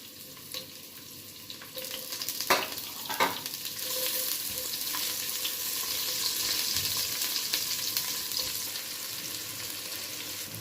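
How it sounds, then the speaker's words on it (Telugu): Garlic, dried red chillies, onions and mustard seeds fry in a pan for uggani, a steady, dense sizzle with a couple of sharp spoon clanks early on, then an even hiss throughout. "కొన్ని వెల్లుల్లి, ఎండుమిర్చి, అలాగే ఆనియన్స్ వేసుకొని బాగా ఫ్రై చేసుకున్నామండి కాసేపు"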